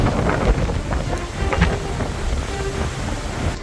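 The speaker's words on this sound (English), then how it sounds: "Wow, it's so windy here." Strong wind by the lake at Capernaum buffets the microphone in a constant rough roar, with gusty swells and no voices.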